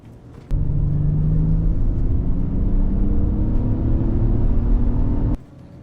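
Acura MDX Type S and Audi Q8 accelerating hard side by side in a drag race on a cold, snowy Canadian road, a loud sustained engine roar with rising pitch that starts abruptly and cuts off after about five seconds.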